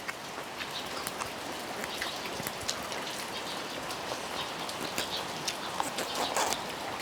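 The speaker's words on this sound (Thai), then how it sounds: "ฝนตกนะคะ" Steady rain after three hours of downpour that has flooded the front of a house. It hisses evenly with scattered nearby drips and taps, a continuous moderate wash with no voices.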